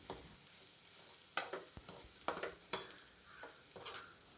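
Boiled potato for aloo bonda kneaded by hand in a bowl: a run of soft, squelchy presses and slaps, close up and irregular, with quiet gaps between them.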